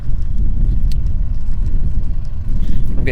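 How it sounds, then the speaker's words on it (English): A switched-on car idling nearby, a steady low rumbling engine hum that fills the clip evenly and loudly, with a faint click near the end. "I'm getting closer to a car now, which is my car, and it's switched on."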